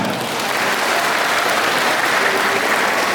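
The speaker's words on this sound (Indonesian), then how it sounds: "Tepuk tangan." Audience applause in a church gathering with Catholic priests, a dense, loud wash of clapping from a crowded room, continuous and even throughout.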